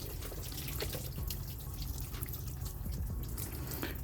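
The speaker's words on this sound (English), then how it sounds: "make sure you guys have a bucket on the bottom to catch all that coolant" Coolant drains steadily from the reservoir of a 2010-2017 BMW 535i into a bucket below, a continuous close trickling and splashing that runs unbroken for the full few seconds.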